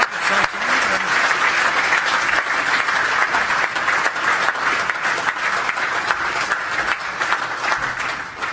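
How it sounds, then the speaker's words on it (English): Sustained, dense applause from a large crowd at an awards night, steady and loud throughout with no pauses. "Another round of applause, please, for Lindsay."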